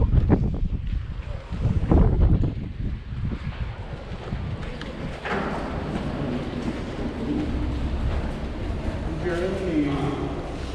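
Wind gusts buffet an outdoor microphone at a seaside memorial in Hawaii, a steady loud rumble with broadband roar throughout, with people talking briefly near the start.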